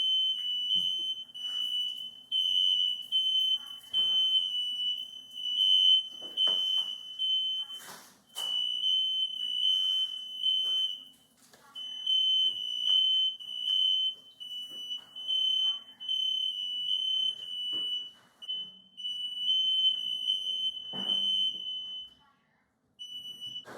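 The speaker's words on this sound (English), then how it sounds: "What just happened is that we set off the fire alarms" A smoke alarm shrills during cooking while chicken fries for chicken parmesan. Its high, steady electronic tone sounds continuously for about twenty-four seconds, broken by short gaps, over faint kitchen clatter and thumps.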